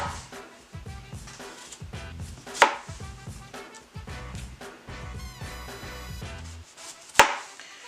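A knife cuts three trimmed potatoes into even slices on a board, giving a steady run of close, crisp chops with a couple of sharper knocks.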